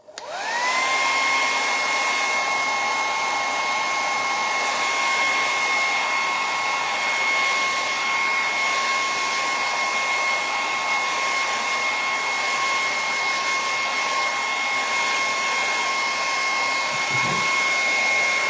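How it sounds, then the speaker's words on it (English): A handheld dryer blows on tacky mineral paint over a stencil, switching on with a steady, loud whine that holds for several seconds before cutting off near the end. "I'm going to hit that with a dryer for a second."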